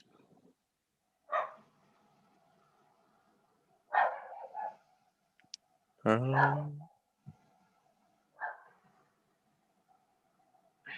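A dog barks a few times at a distance, short muffled yaps spread out with quiet gaps, plus a brief voice.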